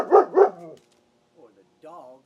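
A dog gives two loud, close barks in quick succession, followed by quieter short vocal sounds after a pause.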